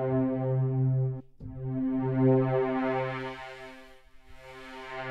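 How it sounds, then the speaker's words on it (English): A band pass filter sweep in Studio One moves across a sustained synth tone, the boosted band gliding slowly upward, with a brief dropout early on and no one speaking. "So this gives kind of a different kind of a sweeping effect"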